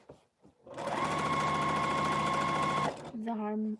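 Sewing machine running steadily for about two seconds as it stitches around a dress sleeve armhole in an alteration, loud and close, with brief talk before and a different tonal sound after.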